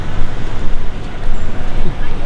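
Busy road traffic in Dubai, a steady broadband wash of passing cars and engines with no single vehicle standing out, heard up close and fairly loud throughout.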